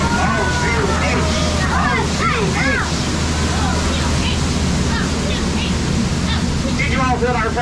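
Steady broadband roar of the waterfall on the Jungle Cruise ride at Magic Kingdom, loud and continuous throughout, with crowd chatter and bird calls mixed in.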